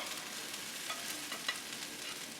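Shrimp fried rice frying in a pan is stirred, producing a soft, continuous sizzle with faint scraping touches, fairly quiet and steady throughout.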